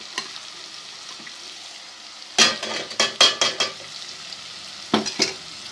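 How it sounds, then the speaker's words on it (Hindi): Onion and garlic paste dropped into a hot pan for a besan gatte curry, with a few bright bursts of sizzle and clattering stirs after a quiet start, loud and close with no voices. "अच्छे से फ्राई हो जाना चाहिए प्याज को।"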